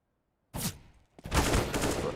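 Pistol shots in a Counter-Strike esports match at IEM New York 2020: a short burst after silence, a brief pause, then a sustained rapid volley of gunfire that fills the rest of the moment.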